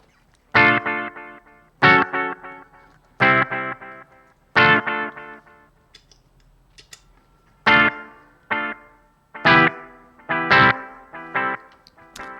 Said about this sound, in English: This pedal also has tap tempo, so I can set the length of time between the repeats by just tapping on the pedal.